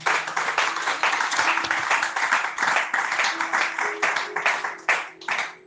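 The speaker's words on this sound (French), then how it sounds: "On acclame pour la parole de Dieu." A church congregation applauds during a sermon, loud, sustained dense clapping from many hands that continues steadily throughout.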